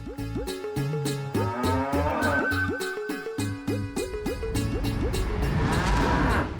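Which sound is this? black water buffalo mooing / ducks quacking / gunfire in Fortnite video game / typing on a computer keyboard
black water buffalo mooing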